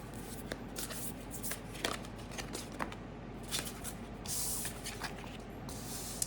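Tarot cards being shuffled up close: repeated soft riffling and sliding bursts with brief crisp flicks, steady and moderately quiet, with no talking.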